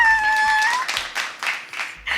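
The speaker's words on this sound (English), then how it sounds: "I want you guys to give a big round of applause for my good friend," Audience applause for a guest at a community talk event, clapping swelling in uneven bursts after a brief tonal sound at the start, fairly close and moderately loud.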